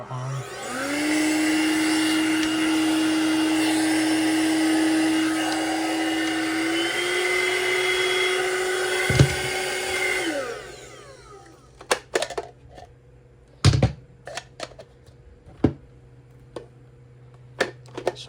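A handheld mattress vacuum cleaner switching on and running with a steady high-pitched motor whine and a rising tone, then cutting off, followed by scattered clicks and handling knocks.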